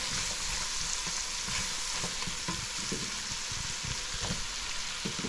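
Thinly sliced carrots and eggplant sautéing in a pan, a loud, continuous close-up sizzle of frying with faint scattered scrapes of stirring.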